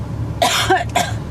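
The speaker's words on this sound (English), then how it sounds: "I need to cough." A person coughs two or three times in quick succession, sharp close bursts against a quiet room background.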